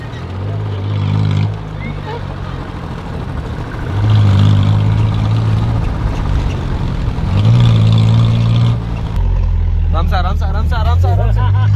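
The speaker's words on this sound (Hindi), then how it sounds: "दोनों इंजन एक साथ पावर में आएंगे।" A vehicle with two engines revs together, a loud low roar that swells and eases in waves, with a voice breaking in near the end.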